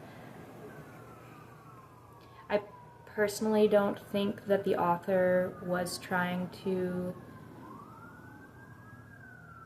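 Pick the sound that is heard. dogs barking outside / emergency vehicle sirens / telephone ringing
emergency vehicle sirens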